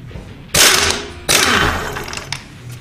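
A Chicago Pneumatic CP7748 half-inch pneumatic impact gun spins a nut off a Jeep tapered axle shaft hub, giving two loud, close hammering bursts, the second slightly longer and easing off toward the end.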